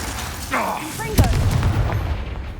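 Confringo fire spell cast in Hogwarts Legacy, a sudden booming blast that fades into a rumbling roar, following a short whooshing cast and brief overlapping game sounds.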